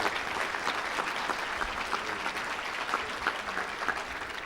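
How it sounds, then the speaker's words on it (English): Steady applause from an audience at a district community event, filling the space evenly with dense clapping throughout, no speech over it. "One more round of applause for Congressman Gonzalez."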